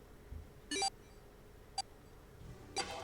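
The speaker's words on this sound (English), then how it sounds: "His bracelet gave a cold electronic beep." Three short electronic beeps from a bracelet in the video game 9 Hours 9 Persons 9 Doors ring out in isolation, the first and last slightly longer, separated by quiet pauses.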